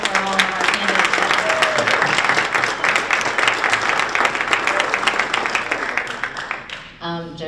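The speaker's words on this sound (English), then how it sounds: "applause for all of our candidates" A community audience gives a loud, sustained round of applause for election candidates at a local forum, dense clapping filling the space before it fades and a voice begins speaking.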